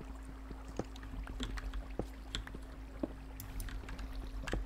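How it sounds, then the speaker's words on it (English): Flowing water and bubbling lava in an underground Minecraft cave make a soft, steady trickle, with faint low popping and small clicks throughout. "All I hear is just lava and water."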